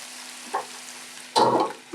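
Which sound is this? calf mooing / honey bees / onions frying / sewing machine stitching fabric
onions frying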